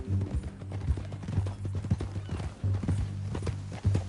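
Horse hooves clip-clopping in a video game, a steady, uneven patter of hoofbeats at moderate distance with no talk over it.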